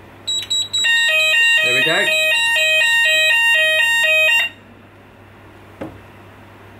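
A smoke detector alarm set off by a Solo 365 detector tester beeps in a loud, rapid repeating electronic pattern for several seconds, then cuts out abruptly; someone speaks briefly over it near the start and end.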